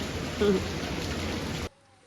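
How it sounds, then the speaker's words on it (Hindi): Heavy rain pours off a house rooftop in a dense, steady hiss that holds evenly and then cuts off abruptly near the end, with no talking over it. "आप देखो ऊपर से, हमारे छत के ऊपर से कितना पानी आ रहा है, कितनी तेज़ बारिश आ रही है"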